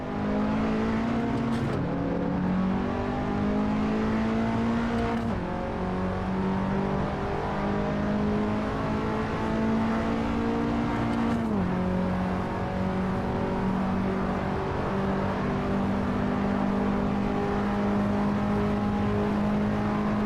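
A front-wheel drive car's engine in a racing video game drones loudly and steadily throughout, with a few brief dips in pitch at gear shifts and no talking.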